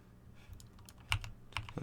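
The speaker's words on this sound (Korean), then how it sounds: "G 버튼 눌러서" Several clicks from a computer keyboard at close range, with a couple of sharper key presses standing out above light background hum.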